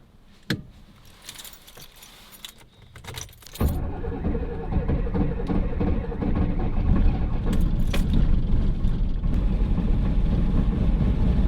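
A 37-year-old ex-military Unimog 4x4 camper turns over after a few clinks and rattles from the cab, then its cold diesel catches and settles into a loud, steady, rumbling idle while warming up.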